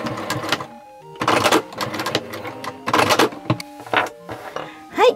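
A home sewing machine edge-stitches 5 mm along the edge of a belt loop made from remade boro fabric, with bursts of rapid mechanical stitching broken by short pauses and some handling noise.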